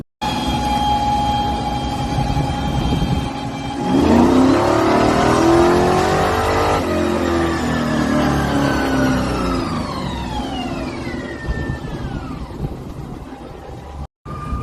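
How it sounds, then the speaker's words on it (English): On a dyno, a Plymouth Cuda with an upgraded small block engine roars loudly, climbing through a long rising rev, holding, then winding down in a falling whine, heard alone at close range. "going to put his CUDA on the dyno after doing a whole bunch of upgrades recently"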